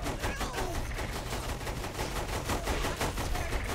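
Rapid automatic gunfire in Saints Row 3, a dense continuous stream of shots with steady rhythm across the whole clip, sounding mid-distance and fairly quiet in the mix.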